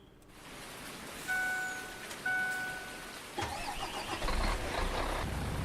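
A truck engine in Farming Simulator 19 starts and runs at a steady mid-pitched idle, rising slightly as it revs, heard close with no talking.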